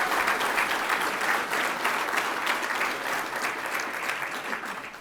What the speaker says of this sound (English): a round of applause for all of those in Excellence in Logistics Services